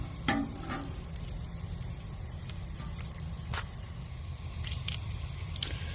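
Bacon strips frying in a pan for a Saturday breakfast, a steady close sizzle and crackle running throughout with a few sharper pops and spits, no talking.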